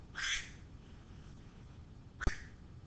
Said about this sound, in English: Everybody tells me I should get rid of the quack on my phone